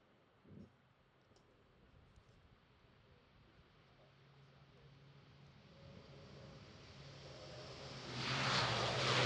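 An Airbus A400M Atlas military transport starts its takeoff run at the Farnborough airshow, its engine roar growing steadily from faint and distant to a loud broadband rush by the end.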